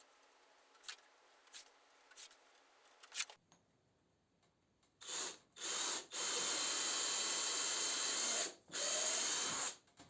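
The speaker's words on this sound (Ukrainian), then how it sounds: "Так як деталі всі однакові, свердлю також пачкою." A few faint clicks, then a power drill whirs in several sustained bursts with short pauses between, loud and close, drilling holes through a stack of identical wooden boards.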